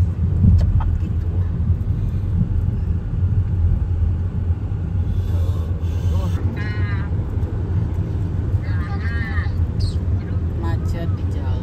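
A car creeps through a traffic jam on an Indonesian road, its engine a steady low rumble that runs throughout, with voices talking faintly over it.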